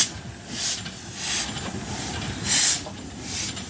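Steam locomotive 44871 hauling the Mancunian passes close by, a broad rumbling rush of wheels and carriages with repeated hissing bursts rising and falling over a few seconds, no talk.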